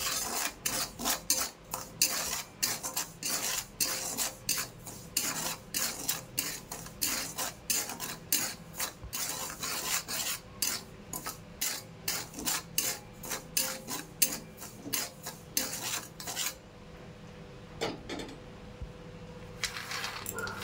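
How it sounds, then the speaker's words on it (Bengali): Salt is heated in a wok before peanuts are roasted, a spatula scraping and stirring through the dry grains in quick, steady rasping strokes, close and continuous, with no talking. "কড়াইতে 5 চামচ লবণ দিয়ে ভালো করে গরম করে নেব।"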